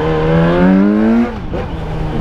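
Yamaha XJ6 motorcycle on its original exhaust, the engine revving up in a loud, rising pitch that peaks and then drops off into a rougher, lower rumble, close to the rider with no talking.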